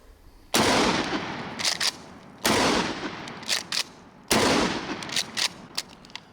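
Three loud, close blasts from a Mossberg Nightstick 12 gauge breech-loading shotgun, spaced about two seconds apart, each with a sharp report and a ringing tail and a few smaller clanks in between.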